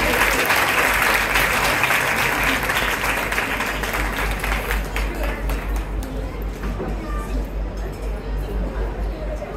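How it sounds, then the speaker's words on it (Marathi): Loud, sustained applause from an audience at a Marathi Brahmin community Mangalagaur event in Kharghar, cheering a group of girls after their traditional Mangalagaur games performance, with crowd murmur mixed in and the clapping thinning slightly toward the end. "यांच्यासाठी खूप जोरात टाळ्या ऐकतात"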